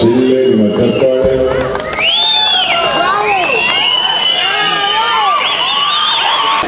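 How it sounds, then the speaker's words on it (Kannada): A large audience at an outdoor stage show during a grand Kannada community celebration cheers loudly and continuously, with repeated shrill whistles rising above the roar of the crowd. "ನಿಮ್ಮ ಶಿಳ್ಳೆ, ನಿಮ್ಮ ಚಪ್ಪಾಳೆ."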